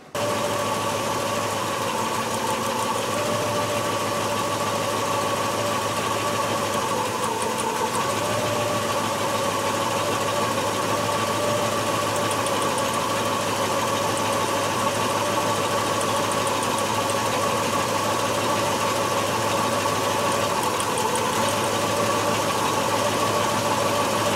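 A 1967 Mustang fastback V8 idles steadily throughout while a cylinder contribution test runs, with a continuous uneven engine hum and a slight knocking vibration, and no talking.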